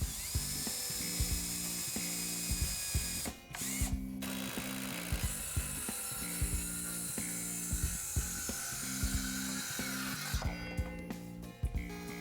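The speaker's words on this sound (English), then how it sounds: "Drill pilot holes and install exterior grade fasteners designed for use in pressure treated wood." Power drill driving screws into pressure-treated southern pine for a planter box, a steady motor whir broken by repeated short bursts and brief pauses, heard alone at moderate level.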